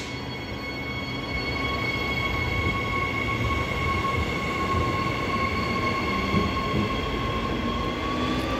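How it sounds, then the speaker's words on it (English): EMU 110, a Perth suburban electric train, departing Currambine station's platform 2 on a Butler service: a loud, steady electric motor whine with rising tones and rumbling wheels close by, building after the first second and continuing throughout, with no voices. "EMU 110 is now departing platform 2 for a Butler service"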